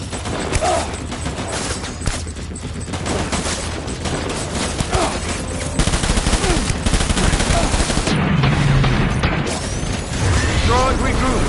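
Gunfire in a Death Stranding battle, dense bursts of automatic shots and crashing impacts running throughout, loud and close, with voices shouting over the fighting.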